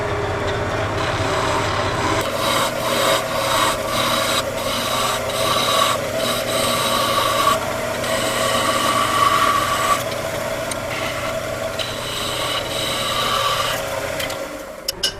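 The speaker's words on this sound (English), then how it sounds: "Now I'm going to cut a taper from the base of the lighthouse up to the top" Wood lathe cutting a taper along a small wooden lighthouse Christmas ornament, a steady rasping scrape with repeated tool strokes over the continuous motor hum, close and fairly loud, no talking.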